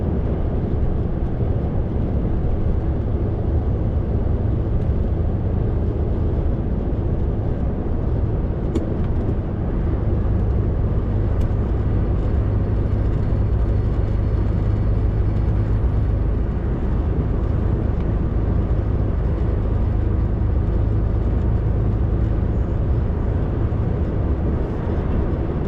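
A car drives through thick fog on the A46, giving a steady, loud, continuous road and engine drone throughout with no voices.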